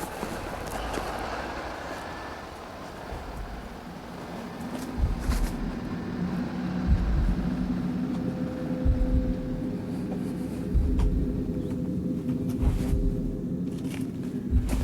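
Heavy armored Mastiff military vehicles rumble and grind along a wadi in Afghanistan with a steady low engine drone, rising and falling as they move nearby, with occasional clanks over the noise.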